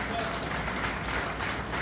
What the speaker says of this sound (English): So just clap for them as well.